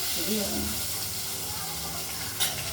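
Potatoes fry in hot oil after a mustard-seed tempering for a katla fish curry with ridge gourd and tomato. A steady sizzling hiss runs under a voice, with a short clatter near the end.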